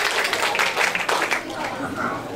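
An audience claps for a child at a hands-on physics demonstration event, with steady applause running throughout while someone talks over it.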